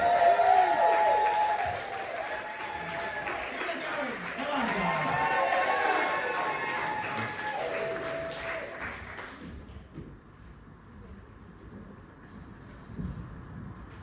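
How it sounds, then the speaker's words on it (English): A comedy-night crowd at a stand-up cider event in Taunton claps and cheers loudly for an arriving comedian, a dense wash of applause and whoops that fades out after about nine seconds, with a voice speaking over it. "Please start clapping, start cheering."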